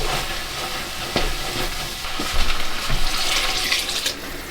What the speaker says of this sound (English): then we'll add 400 ml of water